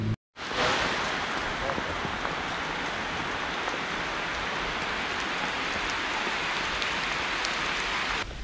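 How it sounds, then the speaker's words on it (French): Heavy rain shower pouring at Lake Bled, a dense, steady hiss of drops drumming on surfaces nearby, starting abruptly after a brief silent moment and staying loud and continuous throughout. "je viens de me taper une averse surhumaine sur la gueule"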